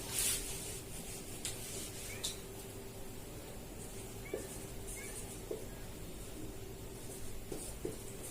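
Soft, continuous rubbing of an eraser or duster over a classroom board during a maths lesson on sets, heard close up with a few light taps, low and steady.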